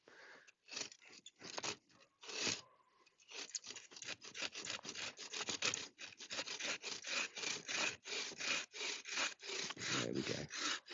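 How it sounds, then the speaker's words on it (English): Steady hand sawing through fatwood at a bushcraft camp, rhythmic rasping back-and-forth strokes, close and fairly loud, with a few brief pauses early on. "This is a piece of fat wood, which is not very nice for sawing."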